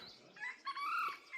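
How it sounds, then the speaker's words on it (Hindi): A red junglefowl crows at moderate distance, a drawn-out rising and falling call with a few softer bird chirps around it. "ये देखिए, रेड जंगल फाउल है।"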